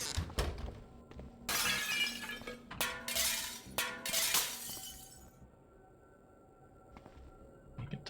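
Glass windows smashed one after another in the survival video game Cataclysm DDA, several sharp shattering crashes with tinkling debris in quick succession, then quiet with a few faint clinks.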